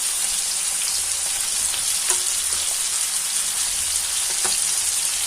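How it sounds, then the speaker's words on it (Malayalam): Karimeen, pearl spot fish, frying in a full pan of oil with a steady close sizzle and scattered small pops and spits throughout, no voices. "നമ്മുടെ മീനെ മറച്ചിട്ട് കരിമീൻ അങ്ങനെ നല്ല സ്റ്റൈലിൽ വെന്തുകൊണ്ടിരിക്കുന്നു"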